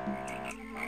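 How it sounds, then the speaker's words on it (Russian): Toads croaking in a botanical garden area of System Shock: Enhanced Edition, a short, dense burst of warbling, rattling croaks, steady and fairly close. "Жабы!"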